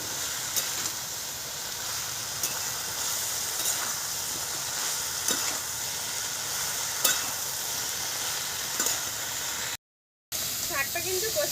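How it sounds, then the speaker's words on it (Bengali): Greens with turmeric sauté in a pan with a steady hissing sizzle and occasional stirring clinks, broken by a short silent gap, while a voice talks at moments over the cooking. "শাকটা কিন্তু কষে নেওয়া হয়ে গেল।"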